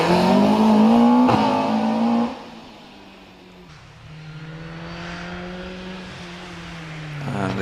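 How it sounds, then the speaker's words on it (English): A Westfield, a Lotus 7-style race car, climbs a hill-climb course, its engine loud and rising in pitch at first, then easing to a steadier, more distant drone as it continues up the hill. "As the Westfield of John Bradshaw continues his way up."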